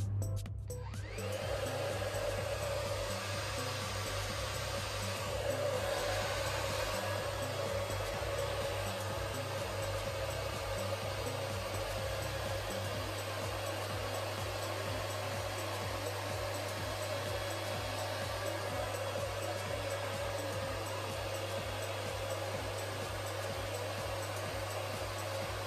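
A YAMAN Veda Bright hair dryer runs on its low setting with bright mode switched on, giving a steady, close, even whoosh and hum that continues alone without speech.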